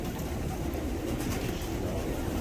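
Pigeons in a coop coo softly within a dense, noisy background, a low rolling murmur that runs steadily through the whole short stretch.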